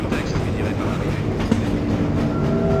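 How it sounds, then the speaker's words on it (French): An automated tram ride in the Half-Life Source game, with a continuous rumbling, clattering rail car in motion and a faint steady hum, loud and unbroken for a few seconds. "Bonjour et bienvenue à bord de cette rame automatique."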